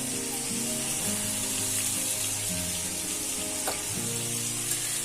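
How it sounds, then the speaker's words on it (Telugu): Ivy gourd (dondakaya) frying in a pan in a home kitchen makes a steady, even sizzle with occasional scraping from stirring, continuous throughout and free of talk. "ఇప్పుడు ఫ్రై ఐటమ్ దొండకాయ ఫ్రై చేస్తున్నానండి"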